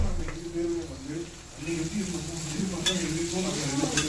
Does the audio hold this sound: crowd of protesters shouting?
no